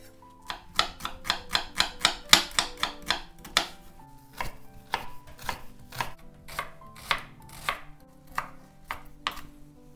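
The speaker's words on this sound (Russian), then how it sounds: "Одну небольшую луковицу нарезаю мелко." Rapid, crisp knife strikes on a cutting board finely chopping an onion, a quick run of chops followed by slower, spaced cuts, close and clear with no talking.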